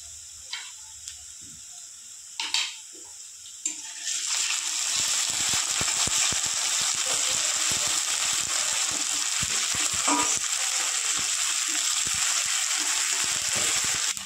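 Ginger and garlic paste dropped into hot oil in a pan while cooking fish. A few quiet knocks come first, then a sudden steady sizzle that holds fairly loud to the end.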